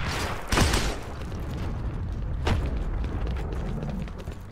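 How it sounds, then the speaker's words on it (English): Grenade explosions in the shooter game Heroes & Generals: two sharp booming bursts, one near the start and one midway, over constant low battlefield rumble. "Someone's tossing grenades."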